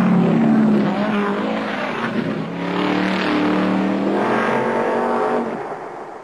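Ford XB Falcon race car engine at full revs, a loud sustained roar that droning swells and eases slightly, as if the car passes close by, with no voices over it.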